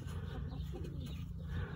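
A farmyard chicken clucks softly nearby against a quiet, low background rumble, with no talk.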